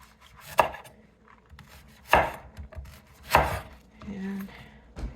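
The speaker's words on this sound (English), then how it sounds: "And then just start slicing. I slice them about 1/4 of an inch." A knife slices through leeks on a cutting board for potato leek soup, four crisp chopping strokes spaced about a second apart, close and distinct against a quiet background.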